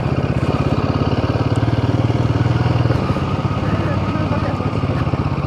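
Motorcycle engine running steadily while riding a mountain road toward Gurudongmar Lake in North Sikkim, a continuous close, loud throbbing drone with rhythmic pulsing throughout.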